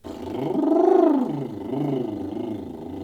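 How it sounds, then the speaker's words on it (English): A voiced lip trill buzzes continuously, its pitch sliding up and then back down, close and fairly loud with no talking. "we normally do one lip roll kind of, setting, and go with the voice through different ranges"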